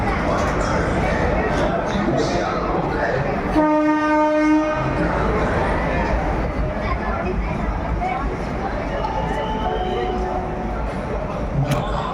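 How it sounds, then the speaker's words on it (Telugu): A train departing Lucknow station in India rumbles and clatters along the rails, loud and close, with a sustained horn blast early on and a continuous rolling roar throughout. "లక్నో నుండి రైలు కదిలింది చూడండి"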